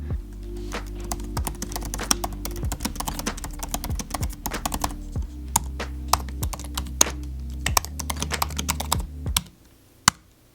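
Rapid typing on a 2019 16-inch MacBook Pro keyboard, dense clicky keystrokes in a steady flurry over a low hum, stopping near the end with one last tap.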